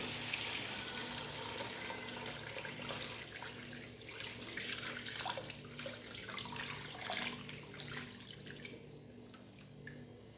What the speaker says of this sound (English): Here's my water. I've already pre-boiled it. Put it in.